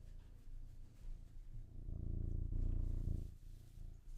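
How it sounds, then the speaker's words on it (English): A pet cat purrs right up against the microphone, a low, steady rumbling purr that swells and eases with its breathing, close and intimate, with no talking. "So that's my cat just purring to the mic."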